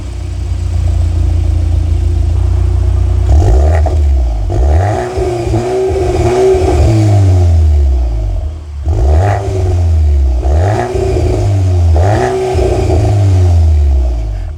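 A 2025 Volkswagen Golf R Black Edition's titanium dual-tip exhaust idling low, then blipped through several sharp revs that rise and fall, loud and close, with a rumbling burble between bursts.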